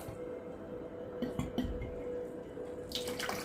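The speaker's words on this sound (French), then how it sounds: "Je vais passer mon tuyau là. Il faut que je pompe là." Water runs through a hose being pumped out of an aquarium, a soft steady trickle with a few small splashes and a brighter gush toward the end, close and fairly quiet.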